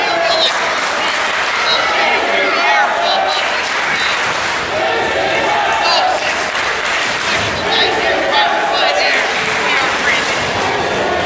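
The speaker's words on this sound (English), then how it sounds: "Crowd is chanting, "This is wrestling,"" A wrestling crowd at a live two-out-of-three-falls championship match roars and claps in steady unison, loud and close throughout, with a chant carried in the continuous noise.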